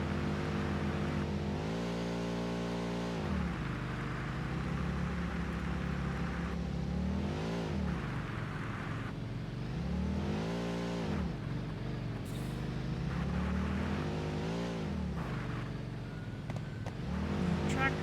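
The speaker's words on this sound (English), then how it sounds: "Tractor's doing okay." Tractor driving in the Satisfactory video game, a loud continuous engine drone that rises and falls in pitch as it repeatedly revs and eases off, with no talking.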